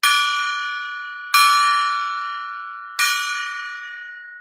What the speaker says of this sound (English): It's a tradition that when we get to 100 thumbs up, we ring the gong 3 times.